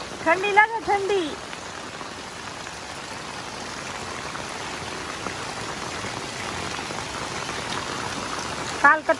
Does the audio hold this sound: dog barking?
no